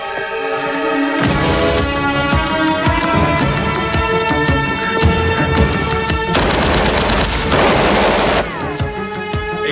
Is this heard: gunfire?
yes